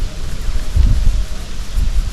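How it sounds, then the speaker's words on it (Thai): Strong wind buffeting the microphone in low, uneven gusts by a canal during fish shooting, with a soft rustle underneath and no talking. "ลมมันแรงครับผม ลมแรง"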